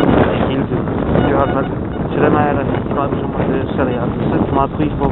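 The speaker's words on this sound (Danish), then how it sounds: "Jeg er ked af, hvis I kan høre vinden lige nu." Strong wind buffets an outdoor microphone in a field during a metal-detecting outing, a constant loud rumble running under someone talking throughout.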